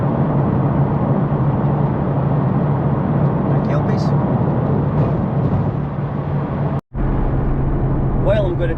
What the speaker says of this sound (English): You might hear, because of where the camera's located, a wee bit of road noise